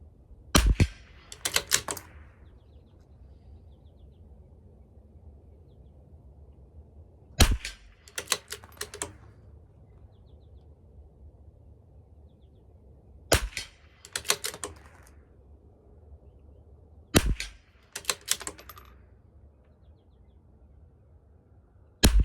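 CZ 457 LRP .22 LR rifle firing Hornady Varmint Express ammunition at a 50-yard target, four sharp single shots spaced several seconds apart, each followed by a cluster of quieter bolt clicks and handling sounds.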